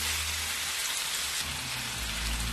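Mutton (gosht) fries in a pan for a cabbage gosht dish, giving a dense, continuous sizzle with steady crackling and no talk.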